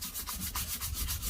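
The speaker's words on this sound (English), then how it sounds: "letting the sandpaper just glide through" Sandpaper rubbed lightly along a vintage wooden rolling pin from a thrift store, giving a continuous close, raspy scratching in quick back-and-forth strokes without talking.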